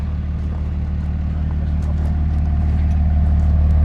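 Duramax diesel engine idling steadily in a shortened Chevrolet 1500 off-road build truck, a loud continuous low rumble up close with no pauses and no talking.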